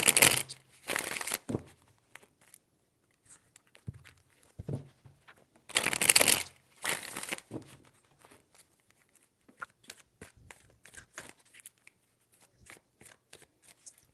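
Tarot cards are shuffled in a few crisp, brisk bursts near the start and middle, followed by softer scattered card handling and faint taps, with no speech.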